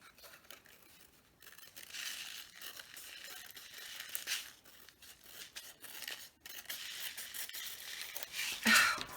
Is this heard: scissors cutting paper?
yes